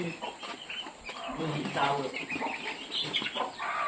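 Chickens cluck close by, their soft calls half-buried in rustling noise and a few voices.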